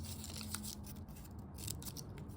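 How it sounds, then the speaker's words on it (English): Small scissors from a multi-tool in a survival tin cut through paper, with faint, quiet snips and rustling over a steady background hiss. "Cuts the paper just fine."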